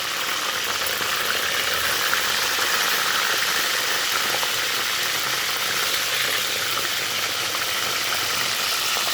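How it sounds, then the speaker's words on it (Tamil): Eggplant pieces fry in a pan of oil for a spicy Tamil tamarind curry, giving a steady, dense sizzle and crackle that holds at an even level throughout with no talking. "இதை நம்ம ஃப்ரை பண்ணி எடுத்துக்குவோம்"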